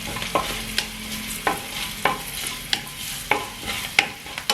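Turmeric-coated rice being stirred and roasted in a pan for Indian lemon rice, with a soft steady sizzle broken by regular scraping strokes of the spoon, roughly one every half second, close and moderately loud, with no talking.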